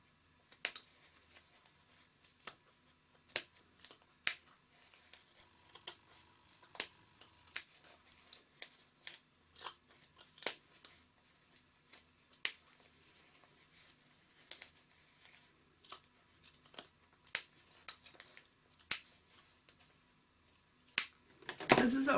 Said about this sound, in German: Dann schneide ich noch den Rest, dass ich nur noch 7 mm Naht stehen habe hier in der Mitte.